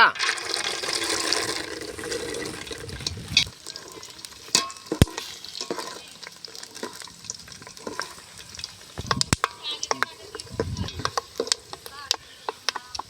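Peanuts hit hot cooking oil in a kadai and fry with a loud burst of sizzling, which settles into quieter crackling and sharp clinks of stirring while someone speaks.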